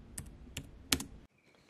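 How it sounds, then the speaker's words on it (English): Keystrokes on a computer keyboard entering shortcuts, a few quiet clustered clicks spaced in short bursts, close up and alone before falling silent. "let's use some keyboard shortcuts here"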